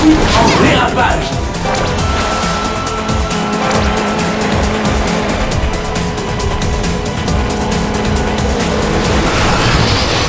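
Video game car drifting through a turn in Sonic & All-Stars Racing Transformed on Xbox 360, with loud engine roar and tire squeal amid busy game sound effects and music, continuous throughout.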